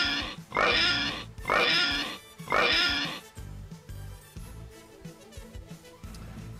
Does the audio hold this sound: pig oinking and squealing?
yes